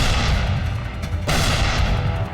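A tank gun fires at a target in a heavy, booming blast, loud and close, within a continuous low rumble of battle noise.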